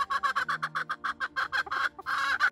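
A backyard chicken near its coop squawks repeatedly in a rapid series of loud, close clucks, each burst short and evenly spaced, rising into a longer squawk near the end.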